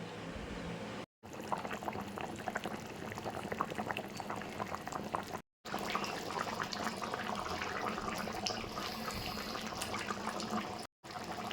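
Meat simmering in a pot of boiling water, a dense continuous bubbling and gurgling that runs steadily throughout, broken only by a few brief dropouts of silence.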